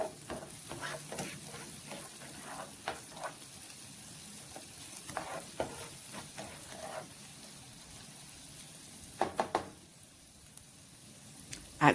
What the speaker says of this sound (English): you will continue to stir it until you notice you are getting a light brown color